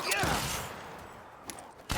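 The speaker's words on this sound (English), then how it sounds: "That's a gun." Video game gunfire rattles in a quick burst at the start, then fades into a noisy wash, with a couple of sharper single shots following.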